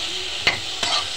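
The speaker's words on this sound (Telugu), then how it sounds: "అలా ఒక 5 minutes ఫ్రై చేసుకున్నాము లో ఫ్లేమ్లో" Okra fries in a pan over a low flame, giving a steady, fairly loud broadband hiss with two brief knocks partway through.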